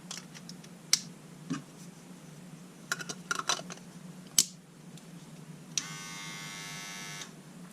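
A Panasonic ER2403K520 electric trimmer switched on, buzzing steadily for about a second and a half after a few clicks and handling knocks, close by with no talk.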